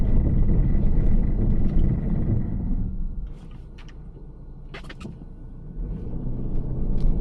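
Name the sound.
car braking hard on snow with Bridgestone Blizzak tires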